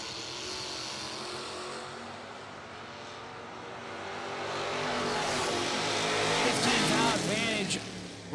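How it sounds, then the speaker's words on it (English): Drag racing at a bracket racing event: a '73 Camaro and another Camaro launch down the strip, the loud engine roar swelling as they pull away, heard at a distance with a track announcer talking over it. "Left-hand side, Stevie Arnett, a 73 Camaro on the left."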